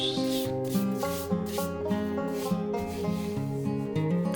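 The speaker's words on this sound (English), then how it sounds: "now I'm going to take it with the 220 grit block again hand sanding" A 220 grit block is rubbed by hand across a wooden cutting board in regular back-and-forth strokes, each about half a second, with steady tonal background music underneath.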